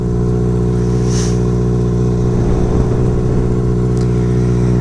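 A vehicle engine fitted with a new aftermarket exhaust runs steadily and loudly close by, a continuous deep droning note with a slight rise partway through, with no talking.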